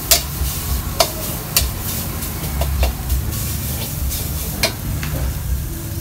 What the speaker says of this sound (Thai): ก็เอาหมูลงไปผัดกับพริกกระเทียมนะครับ